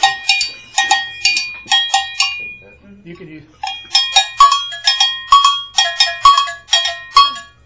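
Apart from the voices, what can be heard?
bell playing a conga bell pattern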